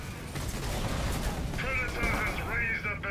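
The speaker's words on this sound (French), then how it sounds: "Qu'est-ce qui tire fort les Eldar" Eldar units trade rapid weapon fire in a Dawn of War III 3v3 battle, a dense continuous crackle of shots with bright whining energy bursts near the end, under game sounds.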